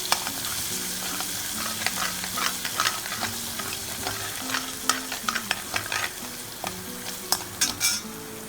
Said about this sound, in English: add the ginger garlic, and now mix it and let it cook for a while